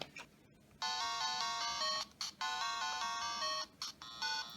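A Game Boy powers on through its small built-in speaker, giving a bright, tinny chiming startup jingle in a few short bursts, loud and alone with no talking.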